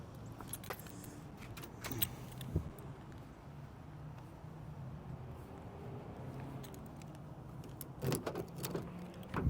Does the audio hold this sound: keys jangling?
yes